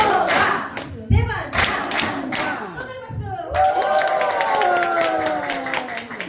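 Audience of elderly people at a church medical-mission event practising group clapping routines, with bursts of loud clapping in patterned rhythms alternating with chanting voices and a leader speaking over the hall.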